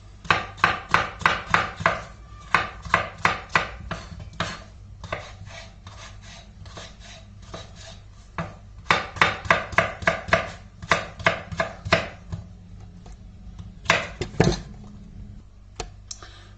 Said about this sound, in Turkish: Patateslerimizi doğruyoruz.